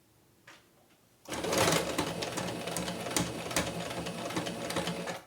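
A noisy sewing machine hemming a tea towel: after a faint tap or two, it starts abruptly and runs in a loud, steady rapid clatter close by.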